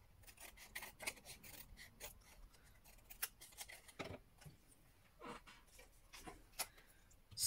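Scissors trimming a small piece of cardstock for a decorated box, faint crisp snips scattered at irregular intervals against a quiet room.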